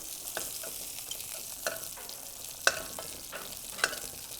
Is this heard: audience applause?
no